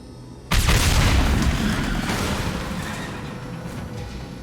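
Fuel tanks blast through a wall in the Mass Effect 2 video game, a sudden loud booming explosion followed by a long roaring, rumbling tail that slowly fades, with no voices over it.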